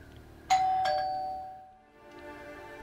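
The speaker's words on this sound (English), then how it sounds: "when the doorbell rings" A doorbell chimes in a scene from the WandaVision series: two quick ding-dong strikes close together, the tone ringing out and fading over about a second, followed by quiet room tone.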